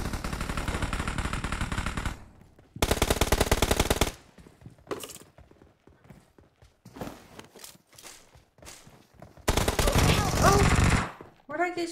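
Bursts of automatic gunfire strike the player in a shooter game, two long loud volleys several seconds apart, with scattered sharper shots and footsteps-like clatter filling the quieter gaps.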